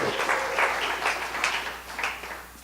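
A church congregation applauds the Lord with dense, fairly close clapping that swells and ebbs in waves before easing off.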